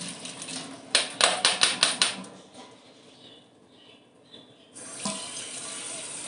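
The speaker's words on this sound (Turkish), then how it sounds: "Şöyle yapınca gelmiyor ama şöyle yapınca suyu akmaya başlıyor." Water drains and trickles from a container of sprouted seeds for poultry as it is tilted at about 45 degrees, with a burst of splashing and rattling, a quieter pause, then a steady pouring flow.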